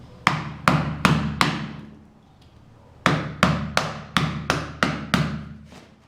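Sharp blows of a handsaw roughing out wood on a carved head, a quick run of four loud knocks, a pause, then seven more in a steady rhythm, close and clear.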